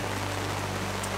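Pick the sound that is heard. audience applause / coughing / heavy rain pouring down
heavy rain pouring down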